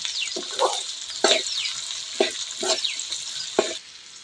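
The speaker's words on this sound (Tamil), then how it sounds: "எண்ணெயில நல்லா வதங்கினா தான் நல்லா இருக்கும்" Onions sizzle steadily as they fry in oil with salt for Chintamani chicken, with several sharp scrapes and knocks of a stirring spoon at irregular intervals over the hiss.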